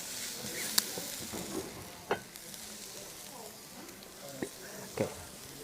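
Mushroom, onion, garlic and carrots stir-fried in sesame oil in a wok: a faint, soft sizzle broken by several sharp spatula scrapes and taps.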